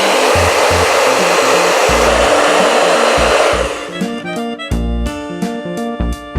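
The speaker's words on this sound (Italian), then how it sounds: "per velocizzare l'essiccazione della colla uso un asciugacapelli" A hair dryer blows loudly and close by, drying vinyl glue on a small handmade nativity cart. The steady roar cuts off partway through, then returns in short bursts with a humming whir.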